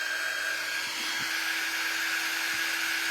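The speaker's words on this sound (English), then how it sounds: "Let me dry it, and I want to show you." A hair dryer blowing on a handmade craft piece: a steady, close, loud whooshing hum with a faint motor whine, running unbroken the whole time with no talk.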